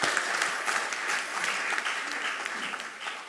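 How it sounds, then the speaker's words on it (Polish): A gala audience at a business chamber's final awards ceremony in Jaworzno applauds an award laureate, a steady, moderately distant wash of many hands clapping with no voice over it. "Wielkie brawa."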